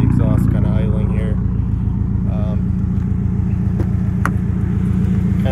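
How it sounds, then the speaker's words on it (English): A modified Subaru STI idles steadily with a low, even exhaust rumble throughout, while a person talks briefly over it. "you kind of hear the exhaust kind of idling here"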